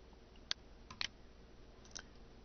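A few quiet mouse clicks in desktop label-design software, spaced out across a couple of seconds, sounding close and isolated with no talking.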